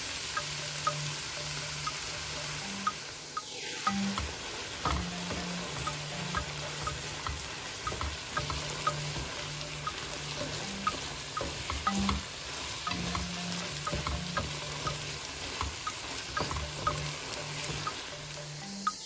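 Mushrooms fry with a soft, steady sizzle in a pan, with scraping stirring strokes and occasional clinks, close and moderately quiet, as soy sauce is about to go in.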